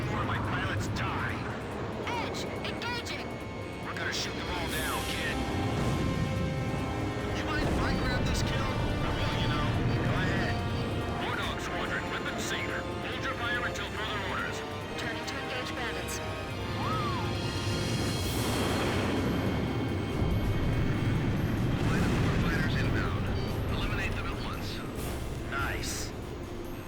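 Gunfire and explosions in the Ace Combat 5 flight combat video game, a dense, loud, continuous battle din with crashing blasts and engine roar under voices talking throughout.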